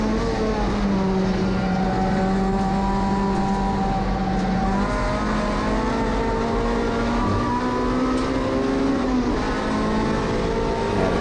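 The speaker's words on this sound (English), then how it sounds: "That rotary sounds amazing." A Mazda RX2 rotary-engined race car on a road course during an SCCA club race, heard from a nearby car as a sustained, buzzing high-revving drone with pitch shifts as it changes gear.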